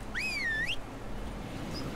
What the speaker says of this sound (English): That's how I whistle to make my horse get over here.